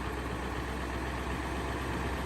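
A Ford 7.3 Powerstroke diesel van engine idling through its stock exhaust, a steady, loud low rumble with a dense even drone and no variation in pace, close by and with no talk.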